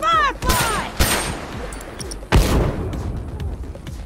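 Gunfire in a video game match, a few sharp, loud shots and booms separated by pauses, followed by lingering battle noise with a voice speaking.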